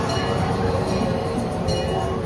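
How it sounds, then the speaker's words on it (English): A zoo safari train on a preserve rolls into its station, with a steady loud rumble of wheels and carriages and light metallic clinks throughout. "Please remain seated until the train comes to a complete stop"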